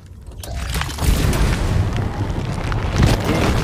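Heavy, rumbling explosions in Guardians of the Galaxy on Xbox Series S, a deep booming roar that swells after a brief quiet start and stays loud and dense throughout.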